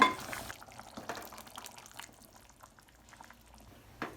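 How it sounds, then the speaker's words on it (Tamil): A pot of field bean gravy bubbles softly at a low boil, with a few louder pops and clinks near the start and end. "இப்போ ஆறு ஏழு நிமிஷம் நல்லா கொதிச்சு வந்துருச்சுங்க"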